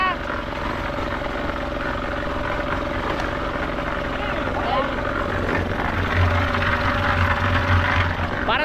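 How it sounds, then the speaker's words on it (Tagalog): A motor engine drones steadily and loudly, its deep continuous hum recalling a boat out at sea, running without pause throughout with no voices over it. "Para tayo nasa dagat dahil sa tunog ng motor."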